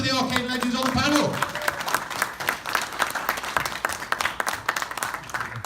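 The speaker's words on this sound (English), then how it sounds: "should we start in the traditional way of giving them a nice, welcoming round of applause?" An audience at a gaming convention panel claps to welcome arcade legends on stage. The applause is dense and sustained and builds after a host's voice at the start.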